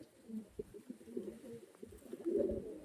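Soft repeated cooing from a pink-footed pigeon, a low murmuring series of coos at moderate distance, quiet throughout with a slightly stronger burst near the end.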